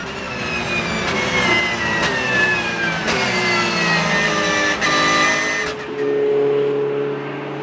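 Porsche 911 race cars at the Dijon-Prenois circuit, loud close engine roar with rising, shifting revs as the cars pass, then a steadier lower drone as they move away.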